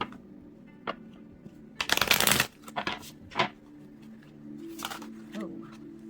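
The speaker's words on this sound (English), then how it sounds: "I'm going to shuffle one time." Tarot cards are shuffled in a few quick riffling bursts, with softer handling and taps between them, close and clear without any talking.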